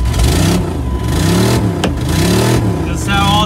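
A Dodge Durango engine is cold-started on a windy, icy day and revved, its pitch sweeping up and down in repeated loud surges, with voices talking over it.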